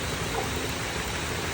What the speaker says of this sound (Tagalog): Umuulan pa mga idol.